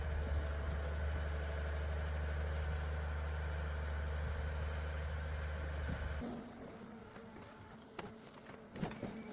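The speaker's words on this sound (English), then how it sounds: "the sound of engines echoes through the trees" Forestry machine engines idle in a forest with a steady, low droning rumble that cuts off about two-thirds through, leaving quiet outdoor ambience with scattered faint clicks and knocks.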